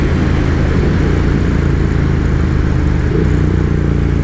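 Triumph Speed Twin motorcycle fitted with a power commander and quick shifter, heard while riding at low speed, with a steady loud engine drone and wind rumble running throughout.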